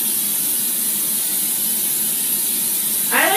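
Cooking spray hisses steadily into a bundt pan, a long continuous close-up spray with no pauses, ending with a faint rising scrape.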